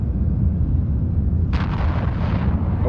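Missiles explode in the Eve Online video game, a sudden crackling blast rising over a loud constant rumble of space ambience and lingering as a hissing roar.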